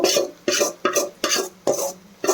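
Tempering being stirred into Andhra-style raw mango and coconut chutney, a spoon scraping through the thick mixture in five or six regular strokes, each a short rasping sweep with brief pauses between, close and clear with no talk.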